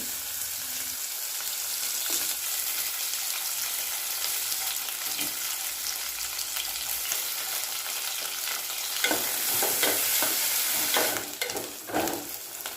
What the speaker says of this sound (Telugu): మిగిలిన దొండకాయ ముక్కలు కూడా వేసుకొని వేగనివ్వాలి